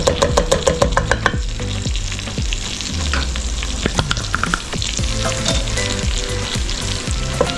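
Three garlic cloves fry in a hot pan with collard greens cooking nearby, giving a loud, steady sizzle broken by repeated scraping clicks as a utensil stirs, with no voices.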